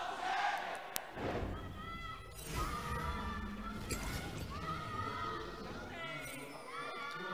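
Crowd cheering and shouting in an esports arena during a League of Legends match between Snake Esports and Suning Gaming in the LPL Spring Split, a loud excited roar under commentators talking.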